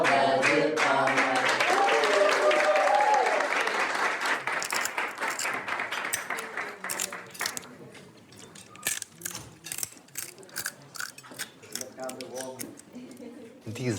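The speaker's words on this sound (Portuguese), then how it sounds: "uma salva de palmas." A round of applause at a birthday celebration, many hands clapping loudly for the first few seconds, then thinning into scattered claps as a voice speaks over it.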